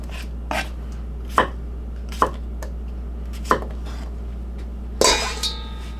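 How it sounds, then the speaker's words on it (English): A knife cuts cucumbers and tomatoes into half moons for a simple salad, giving a few separate, sharp chops on a board spaced a second or so apart, close and fairly loud over a steady low hum. "I'm just cutting them things in half moons"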